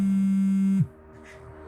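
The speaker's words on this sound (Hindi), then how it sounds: "फोन किसका बज रहा है?" A mobile phone ringing in a room: a loud, steady electronic tone that cuts off abruptly after under a second, followed by faint room noise and a brief murmur.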